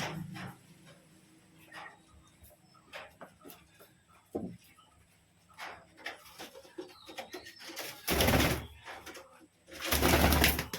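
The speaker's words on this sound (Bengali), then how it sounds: "আমার বিস্কুট কালার পায়রা কালো মুশকি পায়রা চলে এসছে" Biscuit-coloured and black pigeons at a home loft during feeding with mustard seed, cooing softly at intervals with small rustles and scattered calls, then two louder bursts of fluttering wings near the end.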